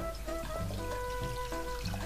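Water pours into a cooking pot as it is filled for boiling rice, a quiet, steady trickling stream with no talking.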